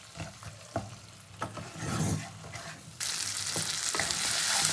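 Spice masala with capsicum sautéing in a pan for a capsicum rohu fish curry, with steady sizzling and repeated scraping stirs that intensify into a loud, continuous hiss near the end.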